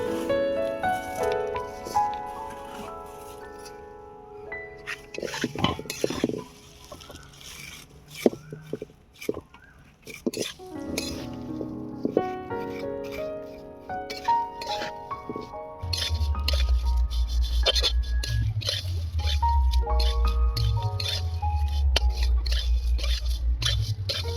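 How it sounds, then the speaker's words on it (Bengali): Vermicelli (semai) fried in a pan for a sweet jarda semai dish, stirred with clinks and scrapes of a utensil against the pan under a steady sizzle; stirring strokes come in irregular bursts, close and moderately loud, with no talking. "এবারে সেমাইগুলো ভেজে নেব।"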